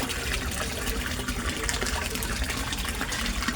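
A submersible water pump runs in a koi pond, producing a continuous loud rush and splash of moving water with no pauses and no voices.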